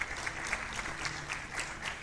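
A crowd claps steadily and warmly, sustained applause filling the whole moment with no voices over it.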